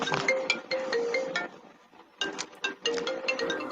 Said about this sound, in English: I'm not sure whose phone that is